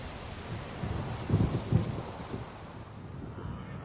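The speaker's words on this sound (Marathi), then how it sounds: "मार्च दरम्यान मसाई मारात पाऊस पडतो." Rain and a low rumble of thunder in the Masai Mara in March, a broad hiss with a deeper roll swelling near the middle before easing off, heard alone.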